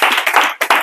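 A church congregation claps in acclaim during a worship service, a close burst of rapid, dense hand claps with a short break before another flurry.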